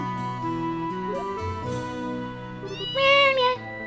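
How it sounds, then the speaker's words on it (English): A cat in the video game Trails in the Sky FC lets out a short, bright meow near the end, rising over steady background game music. "female cat"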